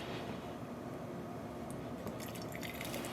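Steady trickling pour of water from a kettle into a vessel, continuous and close, with faint splashing toward the end.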